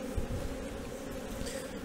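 Honey bees buzz steadily and close during a hive inspection in queen rearing, a continuous low drone with no voices.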